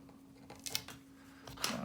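Scissors snipping off a spare strip of tape from a paper rocket, two or three quick close cuts with light handling noise between.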